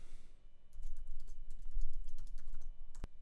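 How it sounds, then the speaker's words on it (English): Computer keyboard typing, a rapid run of close, light key clicks with one sharper tap near the end, no voices. "if I just type here Plecoptera"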